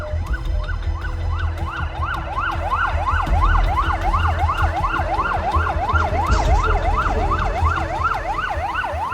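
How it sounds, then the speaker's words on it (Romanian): An ambulance siren wails in a rapid rising-and-falling pattern, loud and continuous, over a low rumble of traffic. "Așa că Sara s-a suit în ambulanță cu toată lumea și au plecat către Brașov la spitalul de copii."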